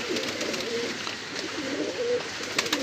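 Saharanpuri pigeons, a male and female pair, give soft, low cooing calls that repeat in gentle waves over steady background noise, with no talking.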